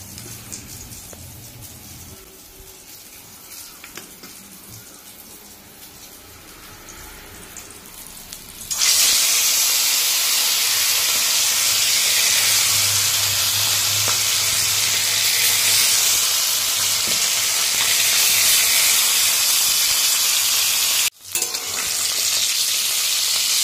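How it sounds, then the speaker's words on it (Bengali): Pieces of local rohu fish hit hot oil, and after a quiet stretch the sizzle erupts into a loud, sustained crackling roar that stays close and constant, with one brief drop near the end. "এখানে এখন এই মাছগুলো সব ভেজে নেব।"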